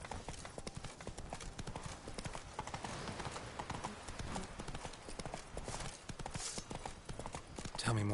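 Roach the horse gallops in The Witcher 3 with a steady, rapid clip-clop of hooves that runs throughout at moderate loudness, and no voices rise above it.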